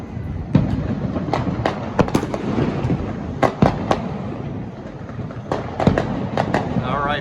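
New Year fireworks bursting at a distance, with a series of sharp cracks and booms scattered irregularly over a constant background rumble.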